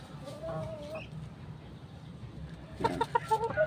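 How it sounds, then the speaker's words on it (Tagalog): A large gamecock clucks at close range, a few soft low clucks early, then a quick run of sharper clucks near the end, over quiet background with someone talking briefly. "Malaking manok din yan mga brothers."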